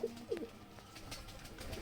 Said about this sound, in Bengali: পায়রাটা খাওয়াচ্ছে।